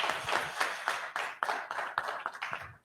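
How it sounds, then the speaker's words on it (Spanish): Lecture hall audience applauding Professor Barrientos: steady, moderately distant clapping from a crowd that fades out at the end. "Otro aplauso, por favor, para el profesor Barrientos"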